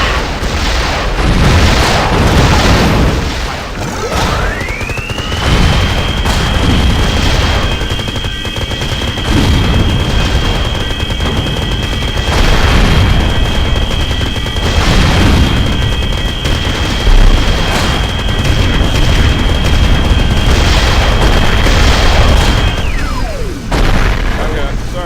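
Explosions and gunfire tear through the Frankenwein lab in Destroy All Humans: Path of the Furon, a continuous loud barrage of booms and blasts under a sustained high whine, with a voice talking over it.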